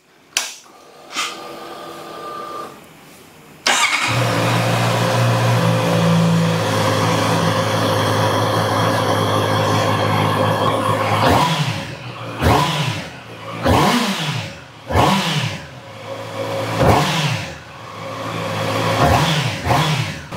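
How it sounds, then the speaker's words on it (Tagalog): A 2024 Honda CB650R with its stock exhaust cranks and fires into a steady, loud idle, then gets a series of sharp throttle blips, each rev rising and falling back to idle. "paparinig ko muna sa inyo kung anong tunog ng CB650R ng naka-stock exhaust"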